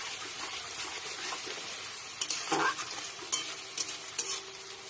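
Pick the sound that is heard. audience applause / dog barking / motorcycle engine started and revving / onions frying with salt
onions frying with salt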